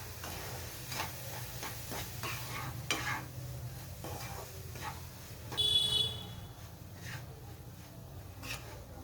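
Rava laddu mixture with milk and sugar being stirred over a low flame, giving soft scraping and rubbing strokes against the pan with a faint sizzle, fairly quiet and steady for several seconds with no talking.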